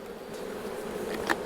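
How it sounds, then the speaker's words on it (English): Honey bees at a crowded hive during winter preparation make a close, continuous buzzing drone, with a few individual bees flying past near the end. "This hive has a lot of bees in it."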